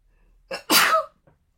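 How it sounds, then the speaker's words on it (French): A single sharp sneeze with a brief intake of breath before it, loud and close, followed by quiet. "Excusez-moi, je crois que je vais éternuer"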